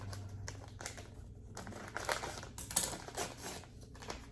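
Crinkling and rustling of a seasoning packet being handled, with a few short snips of scissors and crisp tears, close by and fairly quiet.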